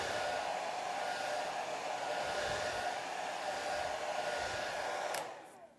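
Hair dryer blowing on a watercolor painting, a steady close whirring roar that holds for several seconds and then cuts off and winds down at the end.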